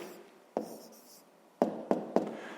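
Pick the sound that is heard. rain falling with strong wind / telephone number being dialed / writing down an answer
writing down an answer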